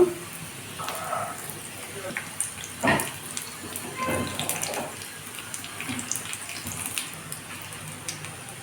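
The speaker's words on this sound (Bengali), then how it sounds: "এগুলো আমি আস্তে জালে ভেজে নেব" Small singaras deep-frying in oil on low heat, a soft, continuous bubbling hiss close by, broken by a few light clatters and gentle knocks of a utensil.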